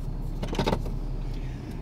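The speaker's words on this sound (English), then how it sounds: "this truck is completely deleted 5-inch straight pipe turbo back into the new KARNAGE muffler. And this is what it sounds like" A RAM 2500 with a 6.7 Cummins diesel, deleted, running a 5-inch straight-pipe turbo-back exhaust into a KARNAGE muffler, drives along. From inside the cab it is a quiet, steady low drone with a brief clatter midway.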